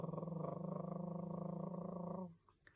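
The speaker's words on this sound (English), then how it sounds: "The kitten purred." A kitten purrs in a continuous, pulsing, buzzy rumble for about two seconds, fairly soft and close, then stops, leaving a few faint clicks.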